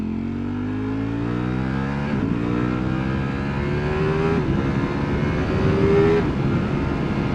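A Ducati V4 Panigale motorcycle engine revs hard on a test ride, pitch climbing sharply through several gear changes with brief dips between each shift, loud and close with wind rush.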